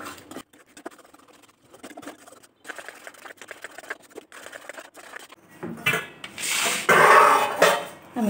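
A milk sandesh mixture being stirred in a pan over low heat, with faint intermittent scraping and tapping that gives way to a louder, sustained rasping toward the end.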